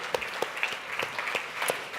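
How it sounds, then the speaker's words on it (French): Audience applause at the opening session of a Cegid business conference in Monaco, a steady patter of clapping from a hall crowd, moderately loud and alone without talk. "Applaudissements."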